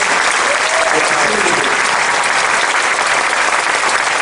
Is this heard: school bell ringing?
no